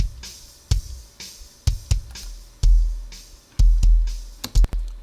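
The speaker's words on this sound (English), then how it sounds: "So now we've taken a kick drum to sound like this." Live kick drum compressed through a Harrison AVA Drum Flow to take on an 808 character, struck about eight times in an uneven pattern, each hit a loud, close thump with a long low-end tail, no voices.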